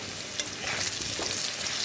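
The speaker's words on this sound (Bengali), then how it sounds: "আলুগুলো প্রায় ভাজা হয়েই গেছে" Potatoes fry in a pan with a loud close continuous sizzle and bubbling, plus a few brief stirring scrapes.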